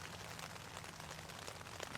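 Rain patters steadily and softly on a tent, a dense, even hiss of drops with no voices, faint and continuous throughout.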